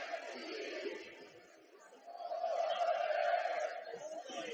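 Stadium crowd at Children's Mercy Park on a rainy night for a Sporting Kansas City home match, a distant, diffuse murmur of chatter that dips briefly and then swells into a louder, sustained roar.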